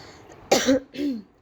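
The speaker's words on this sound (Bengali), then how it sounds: "সরি টু সে আমার একটু কাশি" Two quick, harsh coughs close to the mic, one right after the other, with no talking around them.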